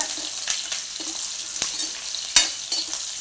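Onions and curry leaves sautéing in a hot pan for an idli tomato kurma, with a steady broadband sizzle and a few sharper scrapes of a spoon against the pan, close and without any voices.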